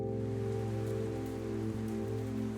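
Rain falls on a road in the video game Night Call, a steady, even hiss that continues without break over a low, sustained droning tone.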